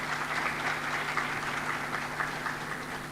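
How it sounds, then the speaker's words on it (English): An audience at an international business sustainability conference applauds, a dense steady patter of many hands clapping at moderate loudness for the whole stretch, with no voices over it. "let's give them a round of applause"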